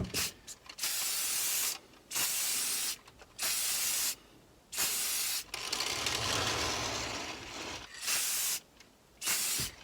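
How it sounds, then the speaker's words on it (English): An aerosol can sprays paint onto a foam helmet in repeated hissing bursts, each about a second long, with short pauses and faint rattling between them. "I'm gonna start the spray off of the helmet and then go clear past it"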